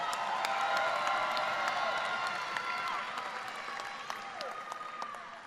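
Sustained audience applause and cheering for graduates at a high school graduation ceremony, a dense wash of clapping with scattered whoops that holds steady, then eases slightly toward the end.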